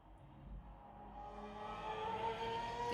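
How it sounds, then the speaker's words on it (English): A motorbike passes in the background, a faint engine drone that swells gradually and grows louder over three seconds as it approaches. "sorry if you can hear the motorbike again in the background"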